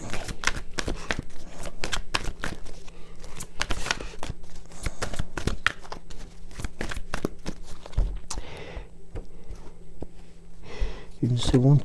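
A deck of oracle cards is cut and shuffled close up, giving rapid flicking, riffling card snaps throughout with soft rustles, and a voice is briefly heard near the end.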